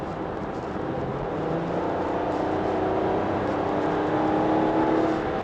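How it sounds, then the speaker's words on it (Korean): A Hyundai Staria LPG van engine hums steadily and rises in pitch as it accelerates, heard from inside the cabin with a smooth, muffled drone. "물론 LPG 엔진도 고회전을 쓰면 이렇게 사운드가 들어오죠"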